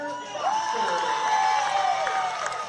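A crowd at a high school boys basketball game in Indianola cheers during starting lineup introductions, a sustained roar with a long whistle-like shriek and an announcer's voice over it.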